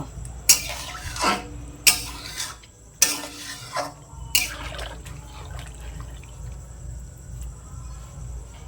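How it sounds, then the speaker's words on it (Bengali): Fried prawns are stirred into simmering malai curry gravy in a pan, with four loud scraping, sloshing spoon strokes in the first half followed by a steady low bubbling simmer. "সেই চিংড়ি মাছগুলোকে এই ঝোলের মধ্যে আমি দিয়ে দেব। দিয়ে ভালো করে ঝোলটাকে ফুটিয়ে নেব।"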